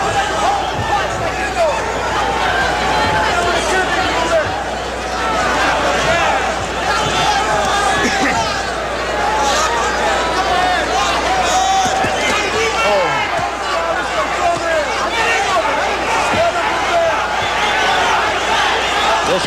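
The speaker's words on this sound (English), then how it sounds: "Listen to the crowd now." Boxing arena crowd at the Julio Cesar Chavez vs Ruben Castillo fight in April 1985, a loud sustained roar and cheering that stays dense and unbroken throughout, with bursts of shouts rising from the mass of voices.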